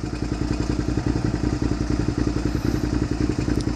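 A vehicle engine running just after being started, with a steady, loud, rapid rhythmic idle pulsing close by, no voices.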